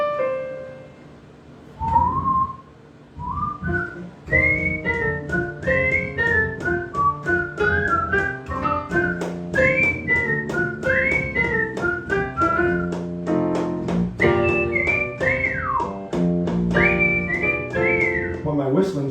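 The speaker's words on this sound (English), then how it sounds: "my whistling's really good lately." A person whistles a lively melody, clear and close, with quick rising and falling notes after a short hummed opening.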